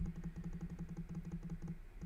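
Rapid typing on a computer keyboard, a steady run of quick, fairly close keystrokes with a brief pause near the end, alone without talk.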